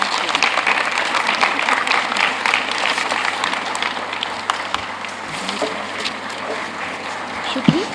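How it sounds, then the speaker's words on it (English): A conference audience at the World Heritage Committee session applauds steadily, a dense, sustained wash of clapping from many hands filling the hall without a break. "I'm sure you're hearing the wonderful claps"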